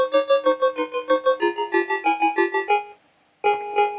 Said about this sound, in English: We have a beeper tune.